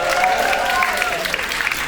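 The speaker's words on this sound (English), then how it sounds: "Clap it up for IA." Audience applause fills a studio crowd at a live Halloween dating show, a steady wash of clapping that holds at even loudness throughout with no talk over it.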